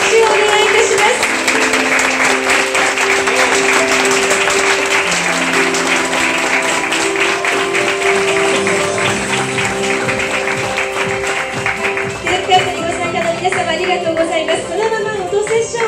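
An audience applauds at a ribbon-cutting ceremony at a remote-controlled robot cafe in Tokyo's Otemachi district, with steady clapping sustained over background music and some talk.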